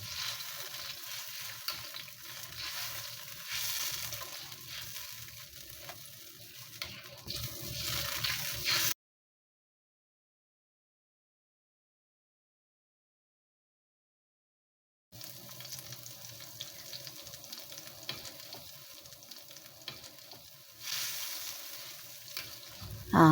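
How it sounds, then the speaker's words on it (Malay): Steady broadband sizzling and bubbling of a tamarind fish sauce boiling in a pan, continuous and fairly close, broken by a stretch of silence midway. "Dah pun mendidih ya."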